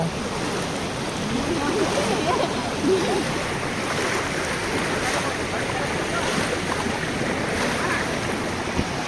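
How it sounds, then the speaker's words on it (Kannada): Amboli waterfall near Belgaum pours with a steady, broadband roar of rushing water, close and constant, mixed with gusts of wind buffeting the microphone. "ಇಲ್ಲಿ ಕಾಣ್ತಾ ಇದೆ ನಿಮಗೆ ಅಂಬೋಲಿ ಪ್ರೀ ವಾಟರ್ಫಾಲ್ಸ್"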